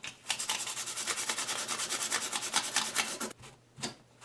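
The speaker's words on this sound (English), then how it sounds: "have some very fine sandpaper," Very fine sandpaper rubbed briskly over Commodore 64 keyboard contacts: a close, steady rapid scratching of quick back-and-forth strokes lasting about three seconds, then a pause and a couple of short final rubs.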